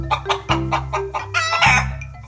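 Chickens cluck in quick bursts inside a chicken coop while a rooster crows over them, the sounds close, loud and overlapping, with layered calls throughout and no talking.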